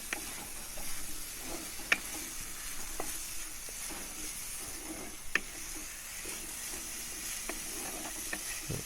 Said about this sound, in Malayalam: അരിഞ്ഞ തക്കാളി കൂടെ ഇതിലേക്ക് ചേർത്ത് നല്ലതുപോലെ അതുകൂടെ ഒന്ന് ഇളക്കി യോജിപ്പിക്കാം